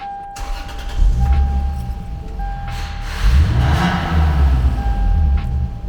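A car with a poorly running Toyota 2JZ engine is started up close by, with the starter cranking briefly before the engine catches, revs up and settles into a loud, rough rumbling idle, with no talk.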